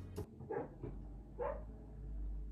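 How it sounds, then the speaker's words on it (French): Several dogs bark and yip indoors, a few short sharp barks and whimpers spaced out over a low room hum, fairly close and without talk. "On peut se calmer les chiens là, s'il vous plaît."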